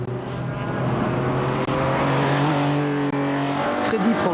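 A Porsche 911 race car driving at speed, its engine a loud, steady, droning roar held close throughout with slight pitch shifts and a couple of brief dips, no talk heard.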